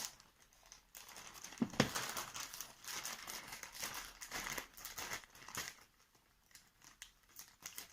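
Quiet, close snipping and paper rustling, with irregular crinkles and short cuts scattered across several seconds and no talking.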